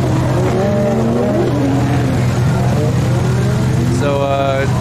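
A T71 Toyota Corolla four-door fitted with a 101 engine, driving at a drift track day; a loud engine revs and whines steadily, the pitch rising and falling, under a voice.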